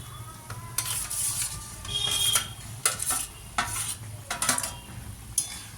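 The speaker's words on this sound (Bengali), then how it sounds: "পনিরগুলো দিয়ে দিলাম" Paneer cubes go into a simmering pea gravy in a pan, giving soft bubbling and sizzle broken by a series of sharp spoon scrapes and clinks against the metal, close and fairly quiet.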